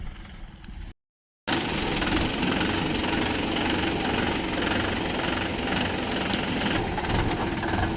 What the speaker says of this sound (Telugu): లోడ్ బండ్లు వచ్చేస్తున్నాయి.